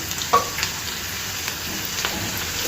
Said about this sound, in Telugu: ఇప్పుడు ఒక టీ స్పూన్ వరకు అల్లం వెల్లుల్లి పేస్ట్ వేసి వేయించుకుందాము